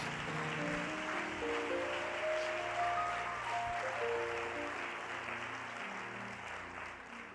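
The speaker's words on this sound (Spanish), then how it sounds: "¿Cuántos le pueden dar un aplauso a mi Jesús?" Applause from a church congregation at a sermon fills the room as a broad, continuous wash of clapping, with soft musical tones beneath it, slowly thinning toward the end.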